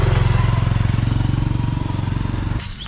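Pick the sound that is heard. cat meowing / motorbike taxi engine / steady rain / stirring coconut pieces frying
motorbike taxi engine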